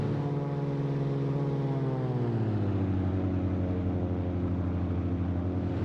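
A Cirrus SR22T-G6 piston engine droning steadily in cruise flight in a flight simulator, a loud, even propeller hum whose pitch glides slightly lower partway through.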